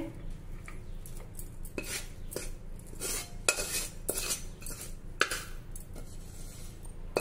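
Cooked fasting-dish mixture being spread with a metal spoon into a ghee-greased tray, giving soft repeated scraping and light clinks of metal on metal, fairly quiet and close.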